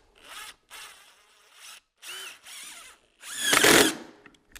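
A power drill drives a screw into a purlin holder in several short bursts, whirring up and stopping, ending with a louder, longer, straining run as the screw seats, close and without talk.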